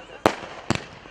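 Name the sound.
firecrackers going off at a cricket match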